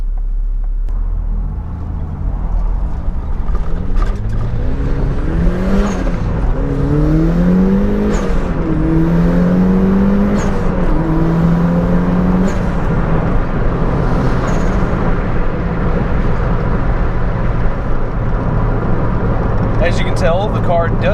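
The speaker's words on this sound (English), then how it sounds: "As you can tell, the car does not hesitate in the slightest to get up and move." A turbocharged Mazda Miata pulls hard under acceleration, its engine note rising through the revs in sweeping climbs, loud and close, with steady road rumble beneath and a brief shift between pulls.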